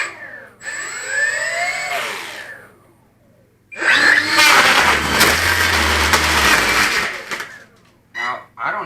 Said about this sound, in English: we'll show you the engines here